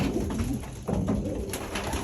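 Young racing pigeons cooing inside a loft, several soft, throaty coos overlapping in a steady murmur at close range, with no voices.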